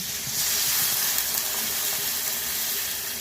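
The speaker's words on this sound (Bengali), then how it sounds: "এবার আমি জল ঢেলে দেবো।" Water poured into a pan of fried pointed gourd and potatoes sets off a steady, close sizzling hiss that holds evenly through the moment, with no talk over it.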